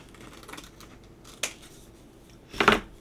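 Scissors snip around a paper snowman cutout for a wooden ornament craft, a soft faint cut near the start and middle followed by one louder, crisper snip near the end, in a quiet room.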